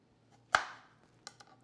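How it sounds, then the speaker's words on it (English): A knife chops through half an onion on a cutting board, one crisp close chop followed by a couple of lighter taps, quiet and without talk. "So I'm going to cut a half an onion."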